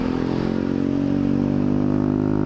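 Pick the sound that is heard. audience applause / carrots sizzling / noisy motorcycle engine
noisy motorcycle engine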